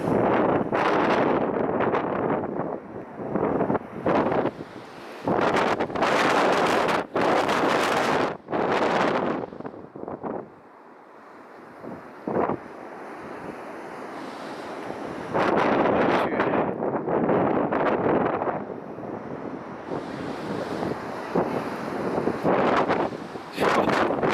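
A 60-knot gale at the coast buffets the microphone in loud, roaring gusts that rise and drop, with brief calmer lulls between blasts and surf noise beneath.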